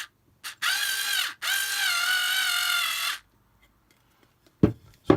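A Black and Decker cordless electric screwdriver whines steadily as it drills into wood, two close sustained bursts with a short pause between, followed by quiet and a couple of brief knocks.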